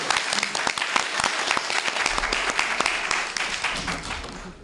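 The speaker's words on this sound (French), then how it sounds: "Ouais, il faut les applaudir." Audience applause at an Ivorian community association's presidential election meeting, a dense wash of clapping from many hands with a few sharper individual claps standing out, steady and fairly loud throughout.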